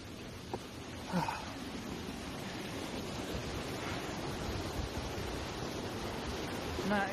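A waterfall in the Lake District pours in a steady, broadband rushing roar, close and continuous, with a few faint knocks and rustles near the microphone.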